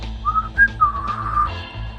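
A person whistles a short, lilting tune in an audio drama: several clear pitched notes rising and falling in quick succession, close and loud over a faint low background.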